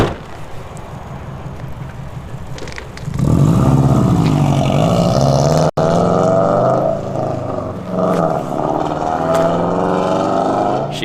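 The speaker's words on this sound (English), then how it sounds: "Car sounds nice." A car engine revs hard and roars as it pulls away from a roadside stop, starting loud after a quieter idle and then settling into a sustained, rising drone, with no talk.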